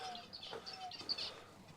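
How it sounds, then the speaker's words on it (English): Small birds kept in aviaries in a pub beer garden give faint, scattered chirps and tweets at a slight distance over quiet outdoor ambience. "There's aviaries with lots of little birds."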